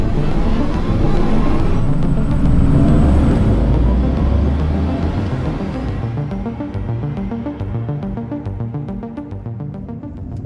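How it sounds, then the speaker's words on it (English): Audi e-tron GT quattro electric car on the move, a loud low mechanical hum and whir from the motors with rising and falling tonal sweeps, strongest early then easing slightly as the drive continues. "you realize that there is a mechanical sound coming from the motors"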